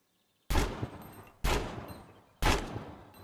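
A rifle with a 30-round magazine fires three single shots at range targets in Gunsmith Simulator, each a sharp, loud crack with a short decaying echo, spaced about a second apart.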